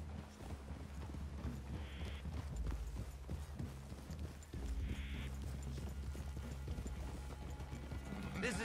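Horse hooves clip-clop in Red Dead Redemption 2 as riders approach a clearing, a steady walking rhythm of soft thuds under a low ambient bed, with occasional faint voices.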